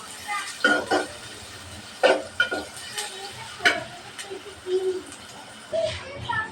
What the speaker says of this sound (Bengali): পেঁয়াজটা ভালোভাবে ভাইজে নেব